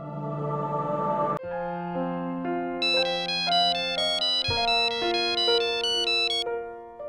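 A melodic phone ringtone plays out in a repeating pattern of bright tones after a number is dialed, clear and alone with no talking.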